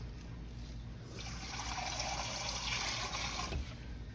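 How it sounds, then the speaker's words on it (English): Beef stock is poured into a cooking pot of smothered beef short ribs, making a quiet, steady liquid pour that builds for a few seconds and then stops abruptly, with no voices. "now I'm going to put some beef stock in here"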